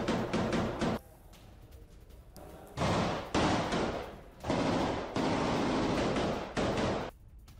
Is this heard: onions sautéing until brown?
no